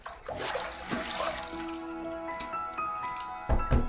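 Water splashes and runs while someone rinses after a shave, close and moderately loud, with a few heavier splashes near the end.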